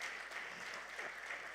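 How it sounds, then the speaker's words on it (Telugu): Audience applause at a movie pre-release event, a steady dense wash of clapping from a crowd that continues evenly through the moment. "అందరం గట్టిగా చప్పట్లు కొడదామా?"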